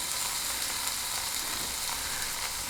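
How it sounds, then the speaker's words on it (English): Bacon strips sizzle on a hot surface in an off-grid cabin, giving a steady, dense crackling hiss that stays even and fairly quiet throughout, with no voices. "see if we can't get this bacon to cook."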